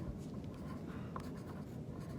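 Pencil or pen writing a word on paper in a classroom, a steady scratchy scraping that runs continuously and close, with no talk over it.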